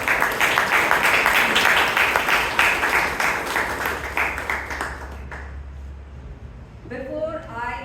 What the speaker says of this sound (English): Let's give our tag team a huge round of applause.